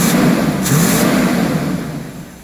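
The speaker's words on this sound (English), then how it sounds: "The motor is a gasoline burner motor. It's a Chevrolet 454." A gasoline Chevrolet 454 big-block V8 in a motor home, fitted with a Holley carburetor, revs up loud and close, then the roar eases off slightly over a couple of seconds.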